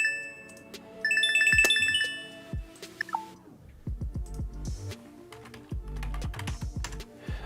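An incoming Signal call rings through a computer: a bright repeating chime tone over keyboard typing, which continues after the ring stops, with close, crisp key clicks.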